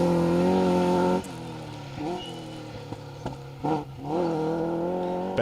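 A Chevette HSR 2.6 litre rally car roars on a forest rally stage, its engine loud and harmonic before the note drops away, followed by repeated revving bursts and gear changes as it drives past.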